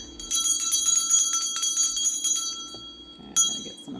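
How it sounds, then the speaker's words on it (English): A handbell rings rapidly indoors with a bright, shimmering metallic clang, shaken continuously for about two and a half seconds, fading into a short ringing decay, then struck once more near the end, loud and close with no talking. "I'm going to ring my bell."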